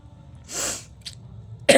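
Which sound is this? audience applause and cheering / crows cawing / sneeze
sneeze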